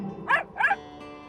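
A dog gives two quick barks in a row, close and fairly loud, with brief quiet between them and nothing else around.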